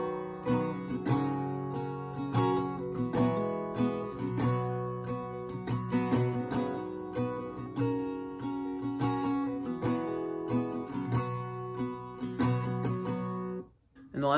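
Steady, rhythmic acoustic guitar strumming plays the full intro of a song, even and close with no voice, ending in a brief drop to quiet.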